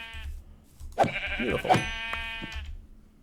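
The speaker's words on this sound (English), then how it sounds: "there's more sheep over here" A sheep bleats in the Minecraft video game, with two wavering bleats close together near the middle and a fainter one after, as someone speaks briefly over them.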